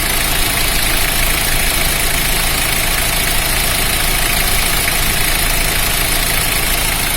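A 2009 Ford Ranger TDI diesel engine idling close up with a steady, even clatter and hum that holds constant throughout, and no talking.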